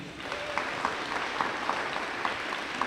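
Audience applauding at a DARE school graduation ceremony, a steady wash of many hands clapping with sharper individual claps popping out, continuous across the whole stretch.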